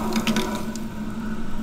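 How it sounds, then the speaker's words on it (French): Water runs from a household tap just opened during installation of a CO2 water softener, a steady moderate rushing flow with a brief splashy onset, no talk. "on va ouvrir l'eau, puisqu'on peut le faire"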